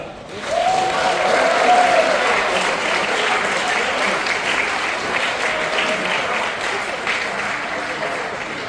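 A commencement dinner crowd breaks into steady applause for Mexico, a full room of clapping that swells quickly after a brief voice and stays strong for eight seconds, easing a little near the close.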